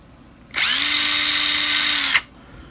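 An 18-volt DeWalt impact driver powered by a Hercules battery spins up sharply, whines loudly and steadily for about a second and a half, then stops, heard close and alone.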